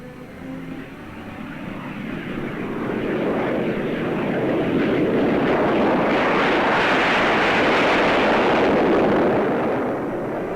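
A North American FJ-1 Navy jet fighter with thin high-speed wings roars past, a broad rushing engine noise that swells steadily over ten seconds and holds loud near the end.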